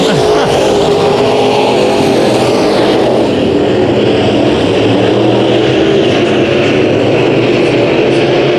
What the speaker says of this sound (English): So Ryland out of turn 4